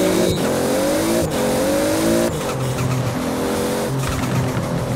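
A Supra race car drifts in Forza Horizon with loud, continuous engine revving and squealing tires. Pitch rises and drops as the car shifts and slides through turns, with no voices over it.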